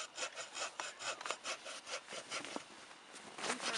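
Bow drill spinning against wood to build friction and hot sawdust, a rapid back-and-forth rasping rub with a steady stroke rhythm, close and fairly quiet.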